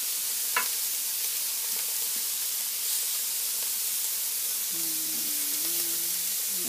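Halloumi sizzles on a grill with a steady bright hiss, interrupted by a couple of faint clicks and a brief low humming tone near the end, with no voices.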